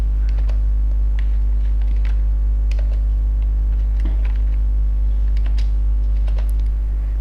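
Values are typed on a computer keyboard into an Excel spreadsheet, with scattered light key clicks sitting under a loud, constant mains hum.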